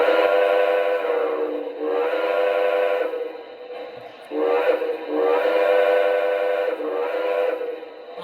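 A Commodore Vanderbilt model train sounds its steam whistle in long, loud harmonic blasts, three sustained toots separated by brief gaps, standing alone and close.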